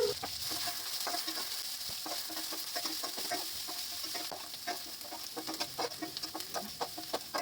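Garlic, onion and chopped green chilli fry in hot mustard oil with dried red chilli, cumin and bay leaf, a quiet steady sizzle overlaid by rapid scraping clicks of stirring, close and without speech.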